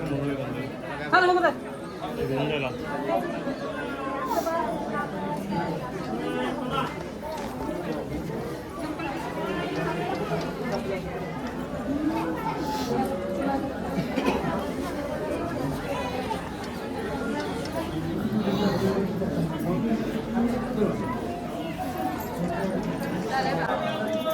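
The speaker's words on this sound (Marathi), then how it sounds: "ते गर्दी बघा किती आहे" Dense crowd chatter fills the Jejuri temple steps, many voices overlapping steadily near and far throughout, with occasional footsteps and shuffling beneath the busy hum.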